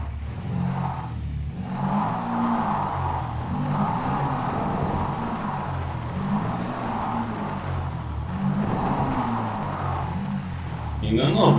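Motorcycle engine in the video game GTA, droning and revving in repeated rising and falling waves at moderate loudness, with someone talking over it.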